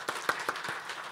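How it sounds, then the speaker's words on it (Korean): A church congregation claps during a Sunday worship service, four evenly spaced soft claps in quick rhythm, faint against a quiet room. "우리 박수로 격려하겠습니다"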